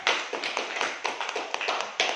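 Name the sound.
class clapping hands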